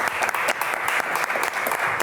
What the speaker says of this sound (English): Guys, give a round of applause.